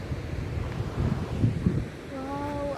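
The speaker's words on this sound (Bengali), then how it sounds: "এখানে পুরোপুরি জল, অনেক জলের আওয়াজ" River water rushes steadily at the Dudhia picnic spot near Siliguri, a broad outdoor wash with wind buffeting the microphone, and a brief voice rises near the end.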